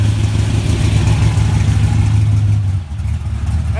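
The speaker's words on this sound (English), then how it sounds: "I gotta do a roll burnout and then jump back in there." A car engine at a racetrack revs hard for a rolling burnout, a loud, sustained low-pitched roar with a rough pulsing texture that eases slightly toward the end.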